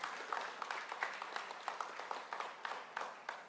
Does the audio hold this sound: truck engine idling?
no